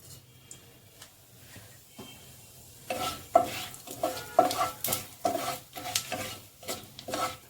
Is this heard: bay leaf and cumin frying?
yes